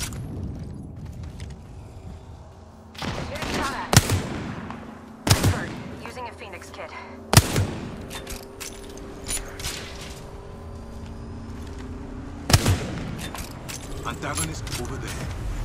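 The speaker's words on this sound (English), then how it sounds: "Second squad is firing on us" Enemy squad gunfire in a video game battle, sharp cracks and broadband shots scattered across several seconds, some bursts louder and nearer, over a constant game rumble with voice chat underneath.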